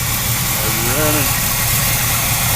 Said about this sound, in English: that motor runs real good